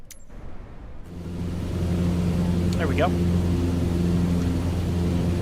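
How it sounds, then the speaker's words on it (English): Steady aircraft engine drone inside the cockpit in Microsoft Flight Simulator 2024, with headphone simulation switched off, swelling into a loud, even hum with strong low tones after the first second, a voice speaking briefly over it. "it is the inner sound of the cockpit"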